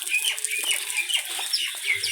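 Birds chirp and call in quick, overlapping bursts outdoors beside a flooding river, fairly close and busy against a faint background.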